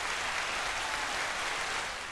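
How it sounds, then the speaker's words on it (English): A studio audience applauds steadily, dense and sustained clapping at a fairly loud, even level with no talk over it. "Applause. And they're going to get louder again."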